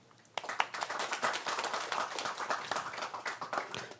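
An audience at a regional decentralization forum claps to welcome the incoming moderator, a brisk burst of handclaps that starts abruptly and carries on steadily at moderate level, fading toward the end.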